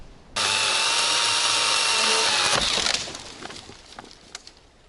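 A loud cordless chainsaw with a dull chain buzzes at high speed for a couple of seconds cutting a tree, then winds down into scattered cracking and snapping sounds.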